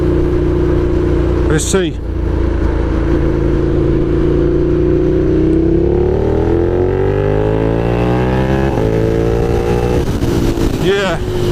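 A KTM 1290 Super Adventure motorcycle fitted with a new throttle roars steadily up close, its engine note climbing then dropping through shifts, with a rider speaking briefly over it and a sharp burst near the start.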